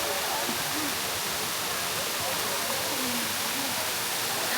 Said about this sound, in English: How's the waterfall